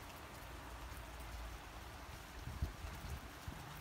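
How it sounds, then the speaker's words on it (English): Heavy rain pours steadily outside, a dense, even wash of drops with a low rumble and a few louder splashes near the end, with nobody speaking. "Yeah, it's pouring rain."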